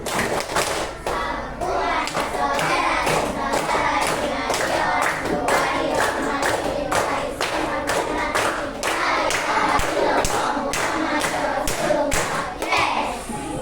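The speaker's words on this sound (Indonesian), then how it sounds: "Coba sekalian ya, 1, 2, 3, tepuk anak soleh." A classroom of children clapping the rhythmic 'tepuk anak soleh' chant, loud, steady rapid claps throughout mixed with their chanting voices.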